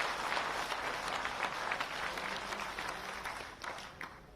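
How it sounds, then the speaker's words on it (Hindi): Farmers at a crop insurance event applaud Madhya Pradesh Chief Minister Shivraj Singh Chouhan, with a fairly quiet, sustained ripple of clapping from a distant crowd that slowly tapers off. "शिवराज सिंह चौहान जी का ताली बजाकर जोरदार अभिनंदन, स्वागत और वंदन करें"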